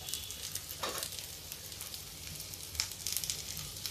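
Ivy gourd (kundru) and potato slices fry in a pan over a high gas flame, giving a steady close crackling sizzle with occasional louder pops and stirring scrapes, with no talking.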